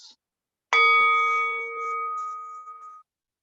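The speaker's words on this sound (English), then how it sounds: "the sound of the meditation gong fading away" A meditation gong is struck once with a bright metallic strike, then its clear ringing tone sustains and slowly fades away over a couple of seconds in quiet surroundings.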